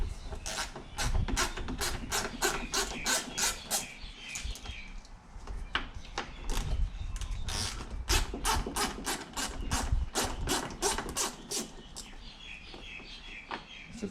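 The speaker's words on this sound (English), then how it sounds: "They look like T30s there that need to come off, and then hopefully the bumper will lift out." Sharp ratcheting clicks in fast bursts come from a hand tool removing T30 Torx screws from a Volkswagen Polo GTI front bumper, close up with short pauses and someone speaking briefly.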